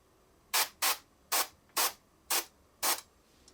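An airbrush sprays paint onto a miniature figure in six short hissing bursts, evenly spaced and close, each about a quarter-second long, with quiet pauses between them.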